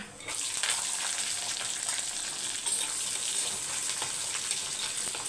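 Green chillies, garlic, small shallots and curry leaves fry in oil with fenugreek, cumin and fennel seeds, giving a steady, moderately loud sizzling hiss that runs without pause.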